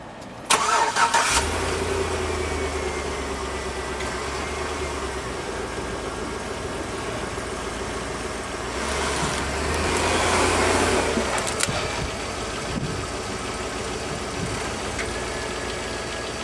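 A 2003 Chevy Avalanche truck engine starts and runs close by, idling with a steady low hum, then revving harder as the truck climbs up onto ramps before easing off again.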